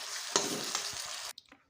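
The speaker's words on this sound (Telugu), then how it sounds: "వేసేసి బాగానైతే కలిపేసేయండి" A spoon scrapes and stirs red chili chutney in a hot pan with a soft sizzle for just over a second, then stops abruptly, close and clear.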